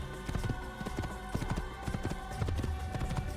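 Horse hooves clip-clop in a steady trotting rhythm in Assassin's Creed, loud and close throughout, alone without talk.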